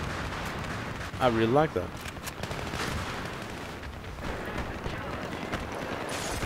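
Burst-fire gunshots in the video game Battlefield 3, with repeated sharp shots in quick bursts across the clip, mixed with game noise and a voice speaking briefly.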